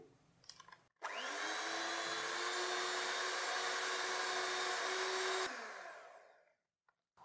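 An electric hand beater whirs at high speed, beating egg into cream puff dough; a loud, steady motor whine runs for about four and a half seconds, then cuts off abruptly, with a few faint knocks before and after.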